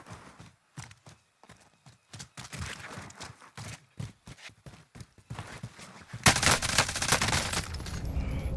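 Gunfire in a PC first-person shooter, with a sniper rifle among the shots: scattered sharp reports and footstep-like thuds, then a dense, loud burst of shooting that fills the final seconds.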